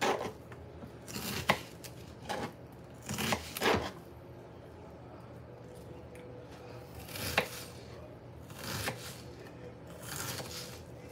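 Onions being finely chopped with a knife on a cutting board, heard as quiet clusters of quick, close chopping taps separated by brief pauses.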